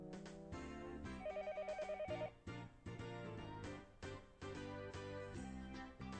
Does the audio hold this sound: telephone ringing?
yes